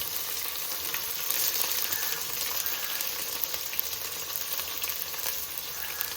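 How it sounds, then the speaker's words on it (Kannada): Onion frying in a pan for veg pulao, a faint, steady hiss of sizzling oil with small crackles. "1 ಈರುಳ್ಳಿ ಹಾಕ್ತಾಯಿದ್ದೀನಿ ನಾನು."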